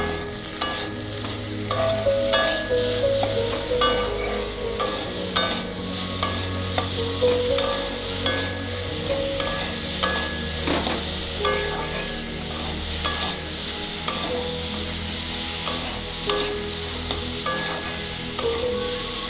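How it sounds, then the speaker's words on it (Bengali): Tomato, slit green chillies, capsicum and chopped ginger being stir-fried with a little salt sizzle steadily in a pan, punctuated by frequent scraping and knocking stir strokes, close and fairly loud, with a low hum beneath. "ক্যাপসিকাম, লঙ্কা, টমেটো আর আদা কুচি একসঙ্গে খুব ভালো করে ভাজা হয়ে গেছে।"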